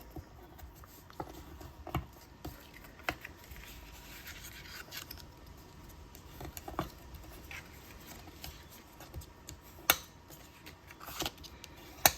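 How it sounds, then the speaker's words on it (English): A bone folder is worked over a paper box, giving faint scattered scrapes, taps and soft rubbing strokes spread irregularly across a quiet room. "want to burnish the box with my bone folder"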